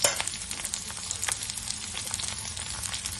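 Shallots, green chillies and garlic sauté in hot oil in a pan, giving a steady, dense, close sizzle and crackle with small spitting pops throughout and no talking.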